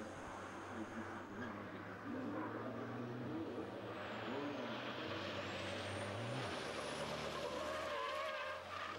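A racing truck slides sideways at the Le Mans truck race, engine droning steadily under a continuous roar of tyres and crowd noise, with a pitch sweep as it passes.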